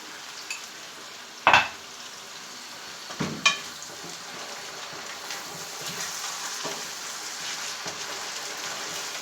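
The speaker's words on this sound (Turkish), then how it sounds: "Pirincimi kavurdum güzelce." Rice toasting in butter in a pot on the stove gives a quiet, continuous sizzle, with a couple of sharper scraping stirs early on and softer stirring sounds after.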